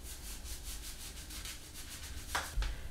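Hair being rubbed with a shampoo made from ayurvedic powders, a quiet, rhythmic scrubbing with about a dozen soft strokes close to the microphone, ending in two slightly louder rubs.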